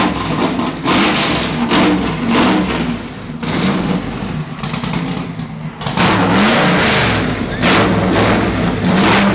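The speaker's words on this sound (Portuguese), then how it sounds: "Aqui está um motor V8 com 450 cavalos" A 450-horsepower V8 race car engine roars and revs loudly and continuously, with repeated surges of throttle and a deep rumbling tone throughout.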